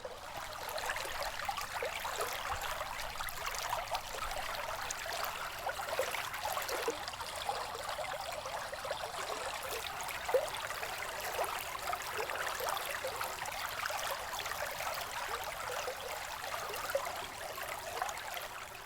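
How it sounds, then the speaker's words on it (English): A small snowy winter creek flows beside a forest trail, giving a steady, soft, continuous trickle and rush of water heard from nearby with no voices. "so you can probably hear the creek behind me. It's a cute little creek"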